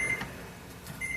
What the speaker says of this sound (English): Oh, there's a timer.